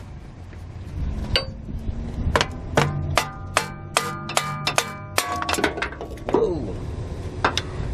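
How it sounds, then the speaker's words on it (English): A Ford F-150 starter motor, once unbolted, is worked loose and pulled out, giving a quick series of sharp metallic clicks and clanks up close, with a single brief exclamation from a voice. "now the starter is unbolted. So you just grab it, manhandle it"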